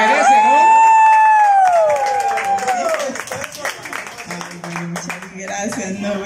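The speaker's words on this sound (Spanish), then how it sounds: "recibimos con un fuerte aplauso a la cumpleañera" Clapping and cheering from a crowd at a woman's 60th birthday celebration, with whoops and shouts mixed in, loud and close at first and continuing under overlapping voices and a strong sustained vocal tone.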